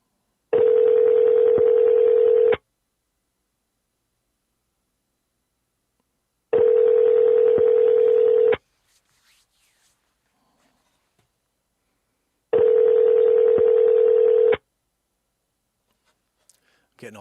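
A phone ringback tone buzzes three times, each ring about two seconds long with long silent gaps between them, clear and close.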